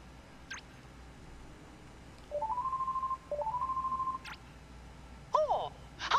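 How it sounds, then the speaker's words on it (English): A gummy phone call ringing in Kingdom Hearts III: two short bursts of a bright electronic ringing tone in an even pulsing pattern, followed by a few chirpy game blips, with no voices. "You've got the gummy phone, Sora. Why don't you try giving him a call?"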